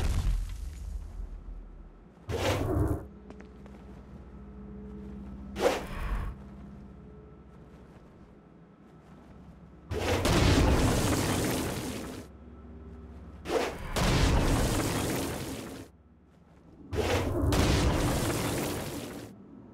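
Bursts of explosions in the video game Saints Row: Gat out of Hell, two short thuds early on followed by three long, loud rumbling blasts separated by brief quieter gaps, with no talk.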